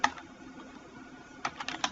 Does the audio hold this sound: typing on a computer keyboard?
yes